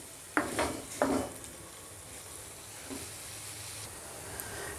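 Tomatoes cooking down in a pan for a Telugu boti curry, with two quick spoon-on-pan knocks early on, then a soft, faint sizzle with a few light scrapes.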